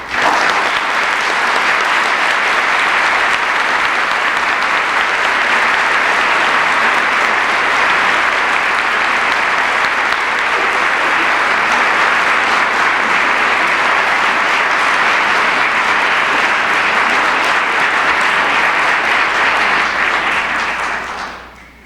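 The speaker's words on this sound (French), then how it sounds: "applaudissons bien chaleureusement les membres de l'Ordre national du Québec" A large audience applauding at the Ordre national du Québec insignia ceremony in 1993, loud sustained clapping filling the hall for over twenty seconds before cutting off.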